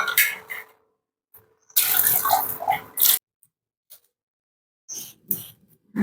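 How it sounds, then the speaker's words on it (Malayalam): Hot water gushes from a tap in a strong two-second stream, followed by shorter splashes and trickles with quiet gaps between. "നല്ല ചൂടിൽ വെള്ളം ഒഴിക്കണം കേട്ടോ"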